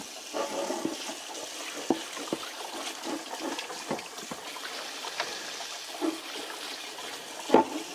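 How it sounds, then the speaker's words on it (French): Water poured and splashed generously to rinse off a guitar body during refinishing, with gurgling and sloshing in irregular surges close by and no voices. "Au bout de 2 heures, on nettoie à grande eau."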